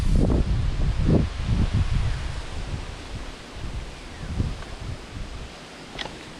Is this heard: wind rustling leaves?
yes